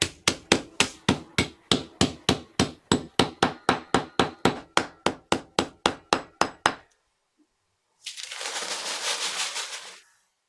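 Steady hammer blows pound chemical pucks into powder in a garage, about two dozen sharp evenly spaced strikes, close and loud, then silence and a brief rustling burst near the end.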